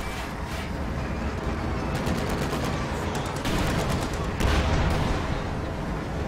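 Battlefield gunfire in Company of Heroes 2 during a fight involving a Sherman tank: rapid machine-gun bursts and heavier booms over a dense, continuous rumble of combat.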